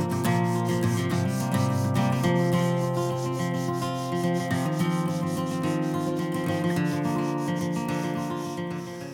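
Sandpaper rubbed over a guitar's nitrocellulose lacquer finish in a steady run of scraping strokes, moderately loud, with music playing underneath throughout.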